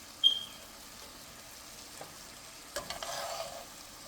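Onions and mushrooms frying in a pan while salt and pepper are added, a faint steady sizzle with a brief clink at the start and a burst of stirring scrapes later, no talking.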